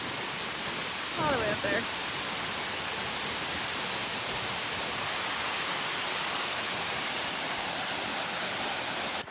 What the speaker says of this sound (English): I think I would literally come back to Yellowstone just for that waterfall.